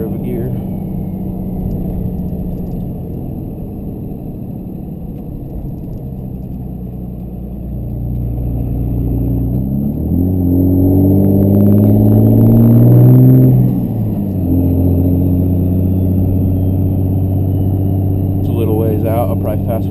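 Twin turbo Cummins diesel truck cruising on a highway, its low engine drone steady from the cab and swelling into a deeper, louder pull midway before settling, with someone talking over it throughout.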